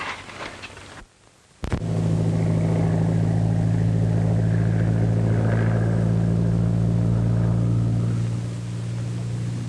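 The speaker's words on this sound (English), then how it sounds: "It's a plane." Patrol plane passing overhead, a steady heavy engine drone with a deep tonal hum that holds loud and even for several seconds after a brief pause and a sharp click.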